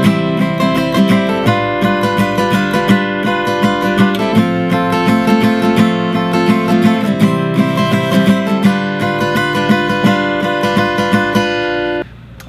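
A guitar strums chords in the steady down-and-up pattern for the song from a Disney Pixar short film, with even, rhythmic strokes played close and clear throughout with no talking, ending abruptly.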